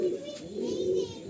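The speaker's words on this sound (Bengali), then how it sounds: "তন্ময়দার ঘরের পায়রা আপনারা দেখছেন" Pigeons in a home loft give a continuous close, throaty cooing, with faint children's voices in the background.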